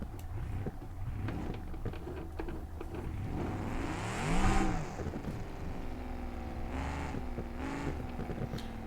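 A car engine in the BeamNG Drive video game revs and whines during a drag competition, swelling to a loud surge midway, then settling into steady throttle with a couple of shifting pitch changes.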